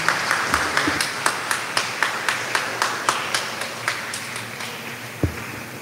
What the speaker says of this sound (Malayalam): നല്ലൊരു കയ്യടി കൊടുക്കാം